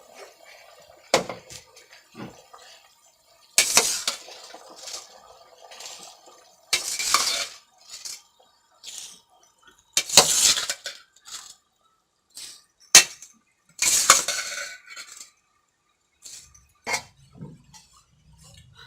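Soaked rice in a cooking pot is stirred and mixed while making chana pulao, sounding as sharp, intermittent scrapes and clinks of a utensil against the pot separated by quiet pauses.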